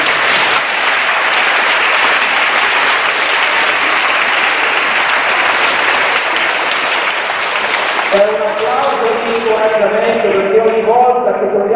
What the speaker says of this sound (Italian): Lo meritiamo un applauso